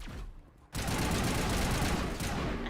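Enemy gunfire in Mass Effect, a sudden loud sustained volley of shots after a quieter moment, continuing steadily to the end.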